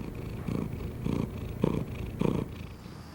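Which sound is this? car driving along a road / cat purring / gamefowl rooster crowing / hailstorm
cat purring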